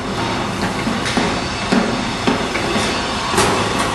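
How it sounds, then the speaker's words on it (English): Workers hammering on a school building construction site, irregular sharp knocks every half second or so over a steady loud wash of site noise. "Now with all these guys banging and hammering around,"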